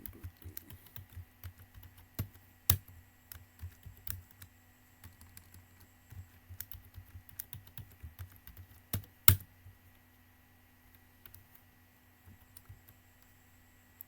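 A password is typed during MySQL setup on a computer keyboard, a string of close, soft key presses in irregular bursts with a few sharper clacks, then quiet near the end, no talking.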